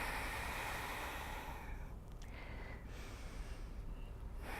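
Deep, steady breathing during a yoga session, a close and airy rush of breath that continues throughout and eases slightly partway through.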